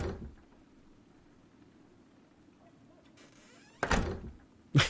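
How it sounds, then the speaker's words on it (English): Doors bang shut during a Call of Cthulhu tabletop session: a near, loud slam comes late after a faint creak, then a second thud follows at the very end, over a quiet background. "I hear all the doors slamming."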